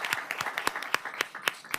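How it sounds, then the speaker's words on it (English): Audience at a city council meeting clapping in a short, scattered round of applause, individual claps standing out sharply. "Clap it up for that."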